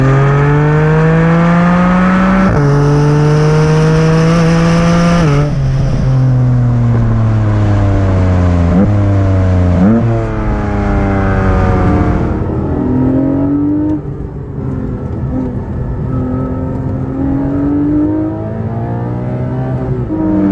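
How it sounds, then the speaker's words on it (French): A Porsche 718 Boxster GTS 4.0 with its flat-six and PDK gearbox pulls hard through several upshifts. The engine sounds loud and close behind the cabin, each gear rising in pitch before dropping at the shift, then settling to a lower cruise. "le moteur se réveille un petit peu, en tout cas on l'entend juste derrière nous"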